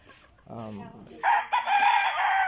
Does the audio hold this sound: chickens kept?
yes